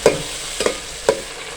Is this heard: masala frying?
yes